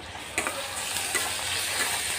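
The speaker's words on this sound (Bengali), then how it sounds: "একটু আদা রসুন বাটা দিচ্ছি" Ginger-garlic paste sizzles in a hot pan, a dense close frying hiss with a few stirring scrapes, no voices.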